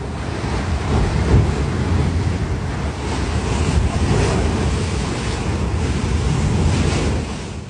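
Pool water thrown into waves by a magnitude 7.1 California earthquake, a steady, loud rushing and sloshing like surf with wind-buffeted rumble, continuous throughout with no talking.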